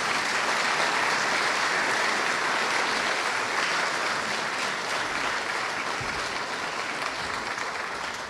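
An audience at a nuclear engineering graduation ceremony applauds in welcome of a speaker, a broad, steady wash of clapping from many hands that holds throughout and fades slightly at the end.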